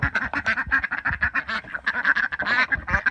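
Ducks quacking close by at a backyard farm pen, a rapid run of overlapping nasal quacks from several birds with no pauses, heard alone without talk.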